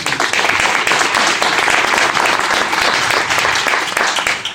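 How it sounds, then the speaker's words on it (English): A community audience applauds the mayor, a dense, loud wash of many hands clapping that holds steady throughout with no break. "Can we applaud the mayor?"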